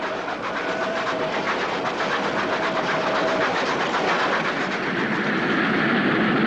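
A passing train rushes and roars steadily and loudly throughout, a dense continuous rumble with faint clattering and no voices over it.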